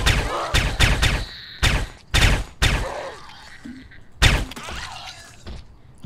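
Gunshots from firearms in the zombie survival game Project Zomboid ring out in a burst of sharp, loud cracks, several in quick succession and then a few spaced single shots.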